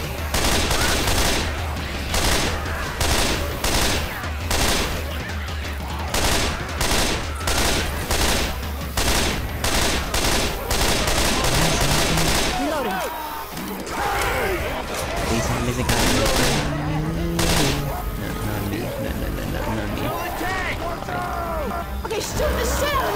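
Dense, continuous gunfire in Left 4 Dead 2 as survivors fight off infected, with rapid shots and bursts crowding the whole stretch, a brief lull midway, and a voice talking over the din.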